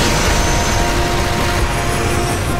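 Steady, loud helicopter engine roar with a constant whirring drone and gunfire-like crackle in Call of Duty: Modern Warfare 3, continuous and close with no talking.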